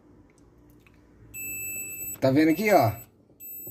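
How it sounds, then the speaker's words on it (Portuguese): A multimeter gives a steady high continuity beep while testing a thermal fuse in an Electrolux refrigerator, the tone sounding for over a second alone before a voice speaks over it. "Tá dando bip."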